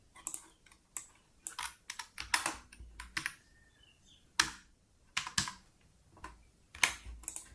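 Typing on a computer keyboard while working in Microsoft Excel: bursts of sharp, close key clicks in quick irregular runs, separated by short pauses, with no voices.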